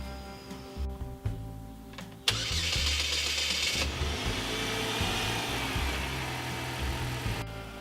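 A car with a dead battery, jump-started with jumper cables, cranks briefly, then catches and settles into a steady close idle that runs on to the end.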